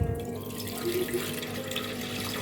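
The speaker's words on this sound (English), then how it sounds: "Add in cold water. We'll wash this till the water runs clear." Cold water runs steadily from a tap into a pot of parboiled rice being rinsed, a continuous close splashing and trickling with faint sloshing, no voices.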